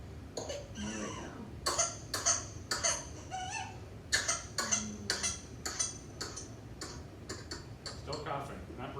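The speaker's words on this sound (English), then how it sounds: "Still coughing, not breathing." A healthy baby coughs in a string of short, sharp bursts, some spaced and some clustered, fairly close and quiet against a soft background hum, with faint ticking.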